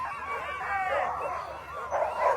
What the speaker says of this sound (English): look at that dog team right there